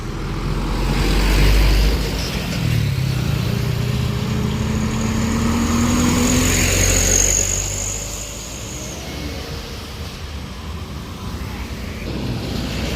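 A queue of cars and trucks idles on a road at a bend, giving a continuous low engine rumble. One nearby engine swells louder early on, then settles, and a faint higher whine drifts over the steady drone.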